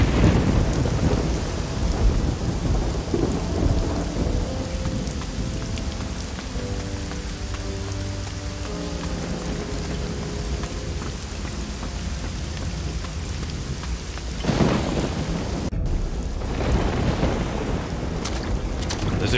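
A thunderstorm with heavy rain rages in Risen 2: Dark Waters. A dense, constant downpour sits under deep rolling thunder, with a louder crack and rumble swelling late on.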